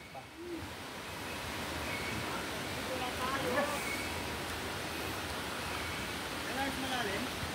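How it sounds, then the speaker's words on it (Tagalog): Strong river current rushing steadily, a broad continuous wash of flowing water close by, with faint voices underneath. "Malakas ang agos doon, eh."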